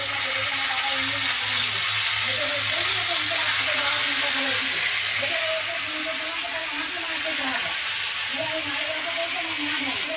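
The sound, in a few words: leafy greens frying in a pan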